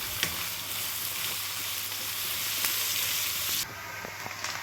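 Chopped onions sizzle steadily in a hot pan, a continuous close frying hiss with a few small pops, easing slightly near the end.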